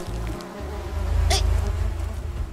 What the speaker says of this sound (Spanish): ¡Avispas! ¡No!